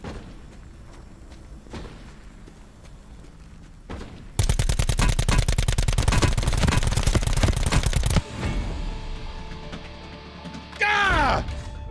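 An ICR rifle in Call of Duty fires a loud, rapid automatic burst lasting about four seconds. Softer isolated thumps come before it, and game noise and a brief voice follow.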